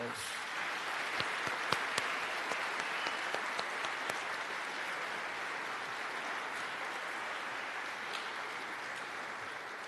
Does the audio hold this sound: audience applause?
yes